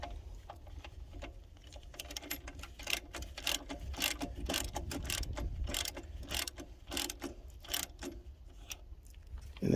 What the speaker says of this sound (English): tighten them down.